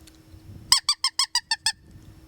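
A Ruffidawg JR predator call blown to mimic a distressed mouse gives seven quick, shrill squeaks in an even rhythm, close and clear over a quiet background with no talking.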